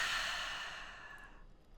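A single long, steady exhale through the mouth during a guided meditation. The close, soft breathy rush starts at full strength and then fades gradually over about a second and a half.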